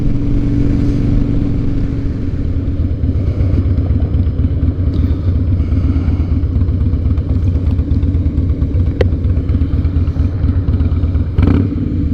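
A 2007 Harley-Davidson Night Train rumbles steadily while being ridden, a loud, close, continuous low engine throb with throttle variations and a sharp click near the end.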